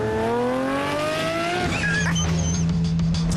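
A Lamborghini Murcielago SV engine revs loudly and rises in pitch through the gears, with a brief shift and tire noise, close and continuous.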